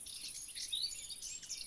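Chirping birds and insect-like trills from a modded video game soundscape, high and steady, continuing without pause at a soft, distant level with no talking.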